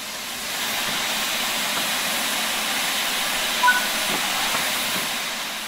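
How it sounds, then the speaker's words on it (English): Steam locomotive cylinder cocks venting in Train Sim World 5 after the engine has stood, a steady broad hiss of escaping steam and water that holds evenly for several seconds, with one brief louder puff near the end. "This locomotive has been left standing, so you'll need to open the cylinder cocks to remove any water."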